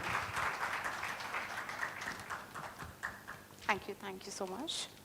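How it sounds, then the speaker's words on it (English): A crowd claps and applauds while voices talk loudly over it, the clapping thinning toward the end. "Everybody, please applause."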